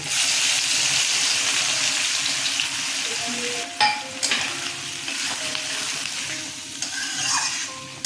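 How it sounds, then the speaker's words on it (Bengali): Chopped onion fries gently in oil on a low flame, a continuous close sizzle with scattered clinks and scrapes of a spatula stirring the pan, loud and steady throughout with no voices. "এই পেঁয়াজটা আমি একদম লো ফ্লেমে এটা একটু ভেজে নেব"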